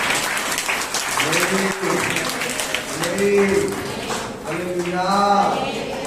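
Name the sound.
congregation clapping at a church service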